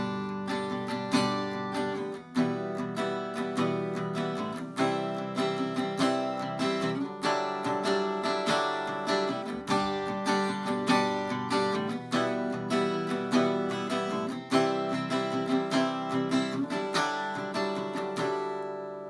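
A guitar strums a chord progression that includes a dissonant chord. Full, ringing strums fall in a steady rhythm for nearly twenty seconds, with chord changes every couple of seconds and no voice.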